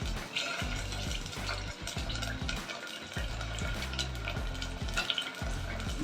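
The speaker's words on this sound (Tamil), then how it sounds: "இப்போ இதில் நம்ம வெங்காயம் சேர்த்துடலாம்." Onions sizzling in hot oil with cinnamon, cardamom and cloves for a pepper mutton masala, a spoon scraping and stirring the pan in repeated strokes over a steady fry, close and without talk.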